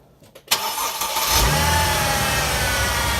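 A Mercedes engine cranks and catches at about half a second, then settles into a steady, fairly loud idle, running while transmission fluid is being flushed in a workshop.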